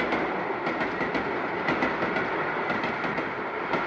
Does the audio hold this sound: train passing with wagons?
yes